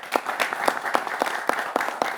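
Studio audience applause on a Hindi TV news show about record voter turnout, a steady patter of many hands clapping with a regular pulse, fairly close and moderately loud, with no talk over it.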